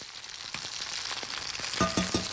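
Food frying in oil in a pan, lifted so the oil runs underneath, giving a faint, steady sizzle close by with a few soft scraping clicks from turning the pieces.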